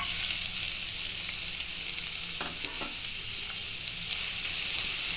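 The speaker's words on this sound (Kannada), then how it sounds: "ಒಂದು ಎರಡು ಸ್ಪೂನ್ ಎಣ್ಣೆ ಹಾಕ್ತಾಯಿದ್ದೀನಿ ಈರುಳ್ಳಿ ಹಸಿಮೆಣ್ಸಿಕಾಯಿ ಹಾಕ್ತಾಯಿದ್ದೀನಿ" Onion and green chilies frying in a couple of spoons of oil in a hot pan, a continuous close hiss with a brief spoon scrape midway and no talking.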